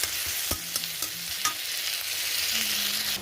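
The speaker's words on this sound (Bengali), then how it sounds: "রসুন লাল করে ভেজে নিয়েছি" Garlic sizzling in oil alongside browned onions for a fish curry, with a continuous close hiss broken by a few sharp clicks and scrapes of stirring. No voices.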